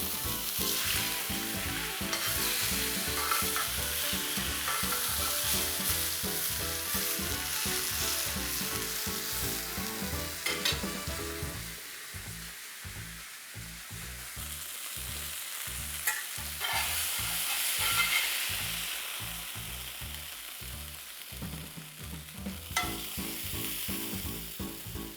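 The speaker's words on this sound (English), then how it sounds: "The cast iron pan did fantastic searing, even, no problem whatsoever." Steak searing in a Lodge cast iron pan, a loud steady sizzle running throughout with bursts of crackling and spitting fat, close and continuous.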